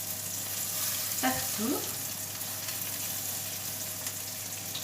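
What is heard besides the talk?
beef meatballs frying and being turned in a pan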